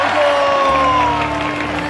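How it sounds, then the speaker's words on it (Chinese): Audience applause with cheering at a staged event as two guests are sent off, a steady broadband clatter of clapping over a low musical drone, close and fairly loud for the whole moment. "让我们响起最热烈的掌声，欢送二位嘉宾离场"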